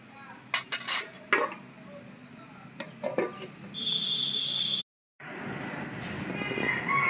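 Potatoes stirred in a metal pot: a few sharp clinks and scrapes of a utensil against the pot, followed by a lid being set on, then a steady low cooking hiss, quiet and close.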